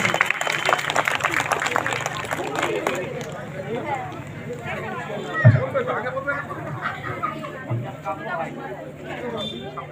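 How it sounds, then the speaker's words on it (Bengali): Audience clapping breaks out at a Hindu temple inauguration ceremony in Sonarpur, dense and loudest at first, then thinning into scattered claps under crowd murmur and background chatter. "সবাই মিলে জোরে হাততালি দেবেন।"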